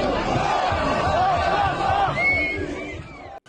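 A protest crowd faces off against police on a Paris street, a dense roar of many shouting voices and chanting close by, swelling and then thinning toward the end.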